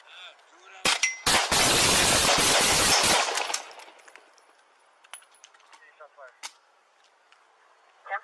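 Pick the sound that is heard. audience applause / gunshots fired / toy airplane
gunshots fired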